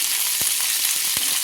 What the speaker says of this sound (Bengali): ফুলকপিগুলো কেটে দিয়ে ফুলকপিগুলো আমি তুলে দিয়ে ভেজে নিচ্ছি।